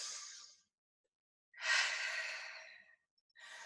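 A deep breath during an exercise class: a long, airy inhale or sigh close to the microphone, with shorter breaths before and after and silence between them.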